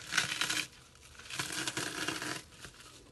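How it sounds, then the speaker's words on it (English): Ryvita crispbread sealed in a bag is crushed under a rolling pin, giving two bursts of crackling and crunching up close, quiet and without talking. "So I want to have a look what happens when I put my Rivita in the bag and I roll it on top."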